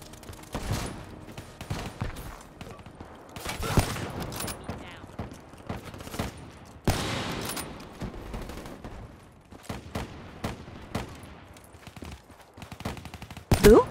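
Rapid gunfire from the video game Call of Duty Black Ops 3 during sniper play, with repeated loud sharp shots and bursts spread across the span, some clustered, heard alone without talk.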